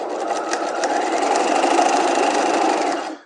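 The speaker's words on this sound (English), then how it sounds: "we're going to stay stitch this bottom edge at a 1/2 inch" A sewing machine runs steadily for about three seconds, stay stitching the bottom edge of a structured bodice in fashion fabric, with a close, continuous whirring hum that stops abruptly.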